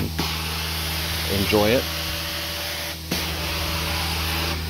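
Pressure washer hose running through a TMF limited edition swivel wand, a continuous loud hissing spray throughout, with a brief dip near the end and a person speaking over it partway.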